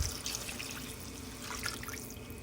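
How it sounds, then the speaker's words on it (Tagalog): Water pours and splashes steadily into a cooking pot, a soft continuous trickle with a few droplet sounds, fairly close and without talk. "Lagyan na natin ng tubig"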